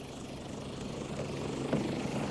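A helicopter flies over Mallorca near Valldemossa. Its rotor drone is steady and fairly faint, holding evenly throughout with no voices.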